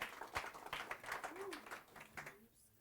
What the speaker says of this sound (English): give a round of applause to Scott